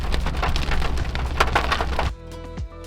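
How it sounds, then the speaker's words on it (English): Rain falling outdoors in the Colorado mountains near old buildings, a dense steady hiss of drops that lasts about two seconds and then cuts off abruptly, leaving quieter tonal sounds. "The rain is about to come in."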